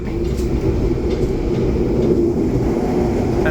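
A steady low rumble fills an executive-class carriage of the Sancaka train in Indonesia, constant and loud, with faint rattling and no talking.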